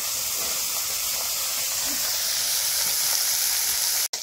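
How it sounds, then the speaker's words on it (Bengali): River fish fry in a little oil, giving a steady, close sizzle and hiss that runs unbroken for a few seconds, with no talk over it. "অল্প তেল দিয়ে কিন্তু ভাজা হয়ে যাবে।"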